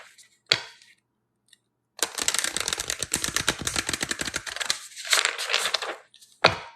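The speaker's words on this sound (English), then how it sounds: "For those of you who like listening to me shuffle cards." Quick bursts of crisp, rapid riffling, like cards being shuffled, come close up with short pauses and sharp snaps between them.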